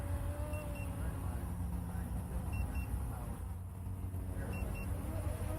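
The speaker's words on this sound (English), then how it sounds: "Transmitter's beeping to let me know that it is doing its own thing." Beeping from the remote transmitter of a C-Fly Faith 2S 4K drone flying autonomously, short paired high beeps repeating a few times over steady outdoor rumble and background noise.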